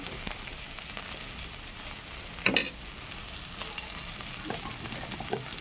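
Green chillies and bay leaves fry in hot oil with a soft, continuous sizzle, interrupted by one sharp clatter midway and a few lighter stirring taps; no talking.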